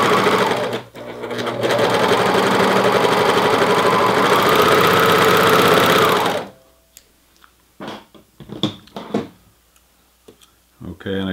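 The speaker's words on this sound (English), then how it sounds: "I'll go with a straight stitch machine and go back and forwards on the end here" A straight stitch sewing machine runs steadily for about six seconds, stitching a T-shirt hem, then stops, leaving a few soft clicks and handling noises.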